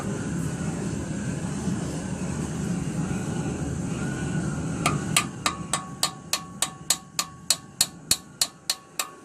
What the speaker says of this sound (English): I'm just gonna slightly tap the valve back in